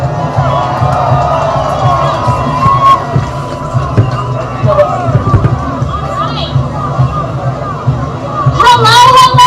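A large outdoor crowd at a pro-Trump rally cheers and murmurs in a constant loud babble, with voices talking over it and a brighter burst of shouting near the end.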